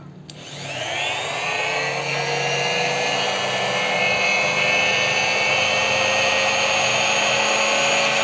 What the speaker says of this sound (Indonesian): Oke, sekarang kita coba nyalakan. Oke, sekarang sudah saya colok.